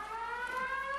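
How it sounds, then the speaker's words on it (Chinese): An alarm siren in a 1981 Chinese war film about the liberation of Shijiazhuang gives a steady, piercing, layered tone that holds without a break, with no voices over it. "拉你妈的警报干什么？"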